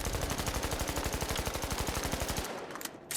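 A video game minigun fires one rapid unbroken burst of close, loud shots for about two and a half seconds, then cuts off into a few scattered clicks.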